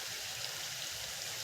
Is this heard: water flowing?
yes